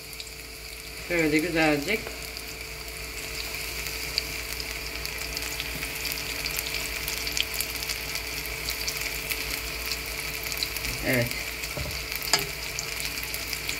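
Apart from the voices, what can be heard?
zucchini rings frying in oil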